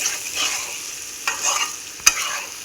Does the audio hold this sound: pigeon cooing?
no